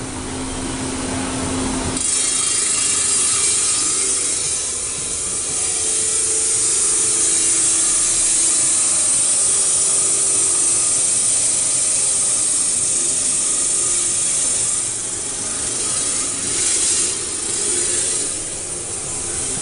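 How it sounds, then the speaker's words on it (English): A wet diamond saw cuts through glass in a studio workshop, its steady grinding hiss running loud and close and unbroken for about eighteen seconds after a brief quieter start. "So we actually take it to a diamond saw with water."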